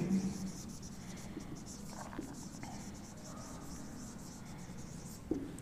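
Chalk or marker writes on a board while a math example is solved. There is faint, steady scratching and tapping across the whole span, with soft intermittent marks and no clear speech.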